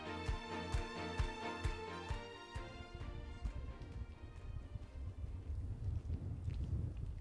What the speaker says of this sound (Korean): 이 바람 소리도 되게 좋은 것 같고요